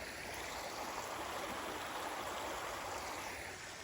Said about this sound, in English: Yeah, so here's Rocky Creek.